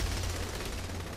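Dense, steady burst of heavy automatic gunfire from the Saints Row 3 video game, loud and continuous with no pauses, no voices over it.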